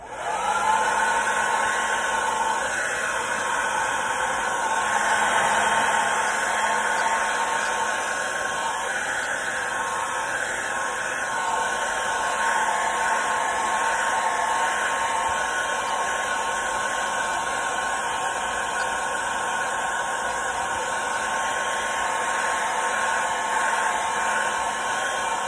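A blower heat-setting fingernail polish on a crankbait lure gives a steady, loud whooshing hum close by, unbroken and even for the whole stretch with no voices.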